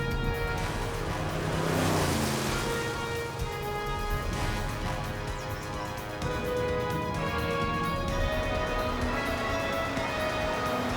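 A car drives on with a continuous low engine drone and road rumble that swells slightly early on, steady and close, with no voices.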